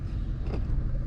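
Road traffic passes near a vehicle just off a highway in Virginia, a single swelling whoosh of a car going by over a steady low rumble of the idling cab.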